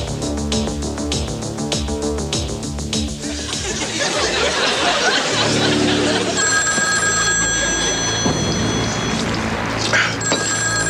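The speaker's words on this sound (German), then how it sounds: "das Telefon klingelt." A telephone bell rings in repeated bursts during a German TV comedy sketch, clear and fairly loud, while music, chatter and chuckling build underneath.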